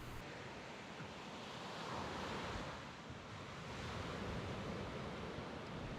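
Ocean waves rolling onto a beach at Hanamenu, a steady broad wash of surf with gentle swells in loudness and some wind rumble, continuous and unbroken by voices.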